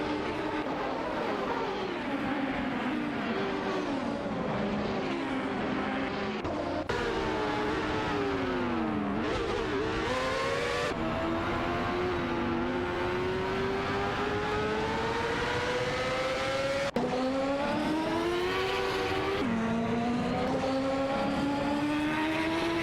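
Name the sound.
race cars speeding down the straight in a video game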